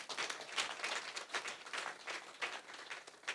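Clapping from the audience at a community re-entry program graduation ceremony, a lively burst of many hands with audible individual claps, moderately distant and steady across the moment.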